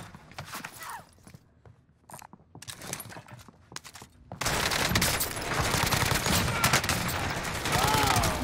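Bursts of automatic gunfire and single shots in Call of Duty Warzone crackle in scattered clusters, then turn into a loud, continuous barrage of close fire with mechanical clatter.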